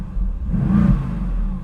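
A Mercedes-AMG GT Roadster sits stationary while its engine is blipped once from idle: a close, deep rumble swells briefly and settles back to a steady low idle.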